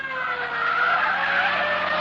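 Car tires screeching loudly as a dark Chrysler sedan with a dented left fender speeds off, a sustained squeal with a faint engine rumble in a radio police drama effect.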